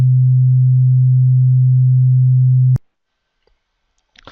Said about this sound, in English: So I'm going to generate a tone using this program.